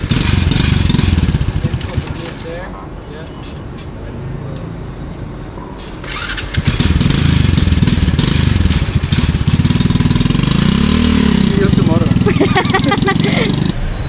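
A motorcycle engine runs steadily in Vietnam, revving up and down loudly nearby during a test ride, with a brief quieter stretch in the middle.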